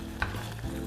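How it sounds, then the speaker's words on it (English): Homemade spaghetti sauce with onions simmers down in a pot, giving a brief, steady low bubbling sizzle with a short scrape of stirring near the start. "it is now cooking down to a nice sauce"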